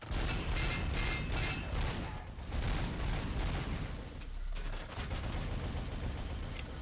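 A hacked turret in a shooter video game fires sustained bursts of automatic gunfire, loud and rattling, with brief lulls and mechanical clanks between volleys.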